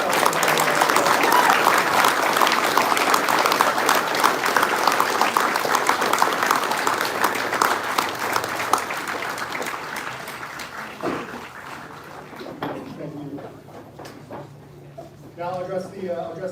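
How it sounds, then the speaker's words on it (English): A crowd at a U.S. Marine battalion redesignation ceremony gives sustained applause that runs loud for about ten seconds, then thins and fades as a speaker's voice resumes. "go ahead and give yourself a round of applause"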